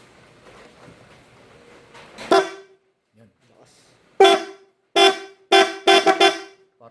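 An old working German vehicle horn from around 1945 honks loudly in a series of short blasts, one early toot, then several quick honks in a row, with people talking softly before and between.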